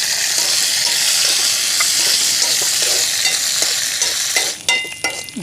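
Cashews and raisins sizzle in hot fat in a pan for traditional Kerala ada payasam, a loud steady frying hiss broken near the end by a few stirring clinks and scrapes, with no talking.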